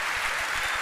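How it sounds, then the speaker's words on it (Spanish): Brief burst of loud clapping from a cabaret audience in Asunción, Paraguay, cheering a guest named Sven: dense and close, lasting under a second. "¡Fuerte el aplauso para Sven!"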